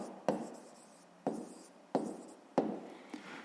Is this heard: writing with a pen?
yes